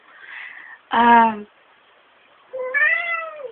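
A visiting 20-year-old cat gives three clear meows, close and loud, separated by short pauses of silence.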